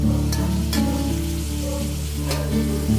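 Tomatoes sautéing in a pan, giving a steady soft sizzle with a few brief sharp crackles, close and continuous with no talk.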